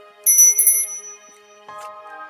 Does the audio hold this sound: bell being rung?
yes